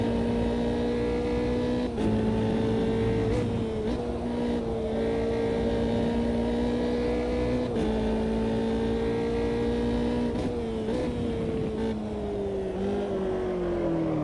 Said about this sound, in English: We are sequential shifting with our elastic band modified G27 H Pattern Shifter.